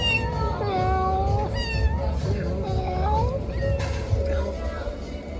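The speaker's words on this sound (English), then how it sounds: "Cats were pretty happy for that." Cats at a beach resort in Hurghada, several loud rising and falling meows overlapping one another close by, over a background of people talking.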